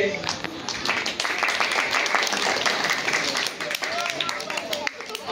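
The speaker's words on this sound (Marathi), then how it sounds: "त्यांचं पहिला आधी टाळ्या वाजून स्वागत करा" An audience at a village comedy stage play claps in a dense burst of applause, steady and close, with voices talking underneath.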